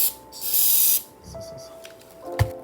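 An aerosol can sprays repair paint onto a masked surface in one steady hiss lasting about a second, followed by quieter handling noises and a sharp knock.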